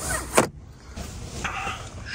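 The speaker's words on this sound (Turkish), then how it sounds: "araç perdemiz var yine kendinden" A power sunshade on a Volvo XC90 T8 plug-in hybrid glides under electric motor drive inside the car, a soft steady whir with a brief click near the start, close and quiet.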